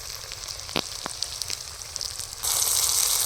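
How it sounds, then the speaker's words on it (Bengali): Ground coriander, cumin and chilli powder frying in oil in a pan for a malai curry, a close, crackling sizzle with stirring taps that swells into a louder, dense hiss over the last second. "এবার সমস্ত মশলা খুব সুন্দর করে কষিয়ে নেব"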